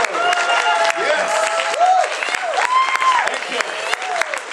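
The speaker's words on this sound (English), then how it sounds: "Yes, you may applaud." A convention crowd applauds, dense clapping running steadily throughout at moderate distance, while voices and cheers rise over it.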